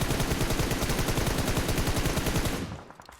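Rapid automatic gunfire in the video game PUBG Mobile rattles in loud, continuous bursts for nearly three seconds, then cuts off abruptly.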